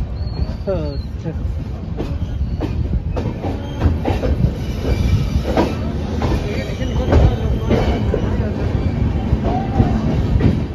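A train running from Ayodhya to Mumbai rumbles steadily along the rails with rhythmic clatter and occasional wheel squeals, heard from inside a carriage; faint voices murmur in the background.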